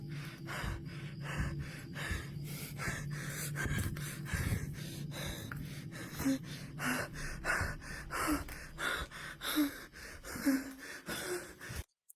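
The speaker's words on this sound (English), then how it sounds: "This breathing, though, I feel like it's a little bit overdone." Heavy, rhythmic breathing with sharp gasping inhales repeats over and over in a ghost video, loud and close, each breath a rushing burst with a few hoarse catches near the end.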